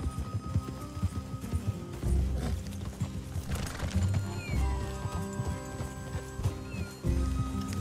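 Horses in the Red Dead Redemption 2 video game, hooves clip-clopping steadily with a whinny and snorts, close and loud over ambient game sound.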